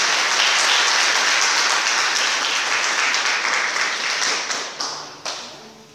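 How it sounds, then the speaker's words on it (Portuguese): Church congregation applauding after a Bible reading, a dense roar of clapping that holds steady and then thins out into scattered final claps as it dies away. "Vamos aplaudir a palavra do Senhor."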